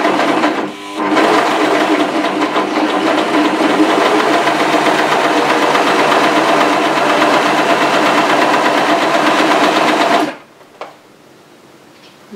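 A Brother 1034D overlocker sews fabric with a loud, steady mechanical whir and rapid stitching rattle after a short start-up. It runs close and continuously for about ten seconds, then stops abruptly, leaving only quiet room noise and a small click.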